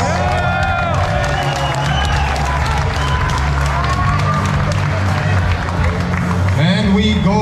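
A loud crowd at a URCC fight night cheers and claps for both fighters, a dense roar of applause and shouting with an announcer's voice carrying over it.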